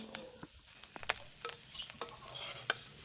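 Fried bitter gourd slices being stirred in a pan, soft continuous frying hiss broken by scattered clicks and scrapes of the spatula against the pan, fairly quiet and close with no voices.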